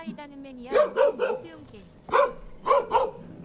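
Several short barks in two bursts, fairly close and loud, sounding somewhat like a voice imitating a dog, with brief pauses between them.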